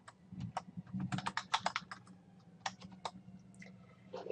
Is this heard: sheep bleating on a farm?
no